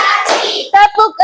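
A class of children clapping their hands in a counting clap game, a loud burst of mixed claps followed by three sharp, rhythmic group claps close by.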